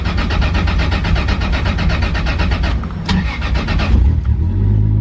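A 2JZ-swapped Nissan 240SX running on E85 cranks with a rapid rhythmic starter chatter, then fires into a loud, rough, deep idle close by, with a short sharp burst partway through.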